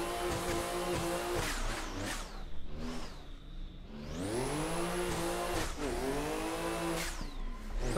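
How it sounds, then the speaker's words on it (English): A Toyota Chaser drifts in Assetto Corsa, its engine revving hard with a rising whistle from the big turbo spooling up, tires squealing through repeated throttle surges and gear changes, loud and close. "That big turbo spooling."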